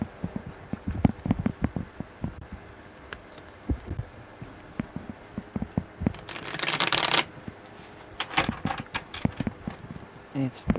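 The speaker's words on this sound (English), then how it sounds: "Oh, that was a funky shuffle." Tarot cards being shuffled by hand: soft irregular riffling and tapping with a brief louder burst of rapid flicks midway, close and quiet, with a few murmured words in between.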